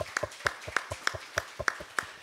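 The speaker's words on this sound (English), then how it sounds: "So right there, round of applause." A few people clapping in a church congregation, roughly eight sparse claps in a steady rhythm, fairly near and moderately quiet, with no crowd roar behind them.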